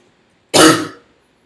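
A single short cough blending into throat clearing bursts out close and loud, lasting about half a second before fading to silence.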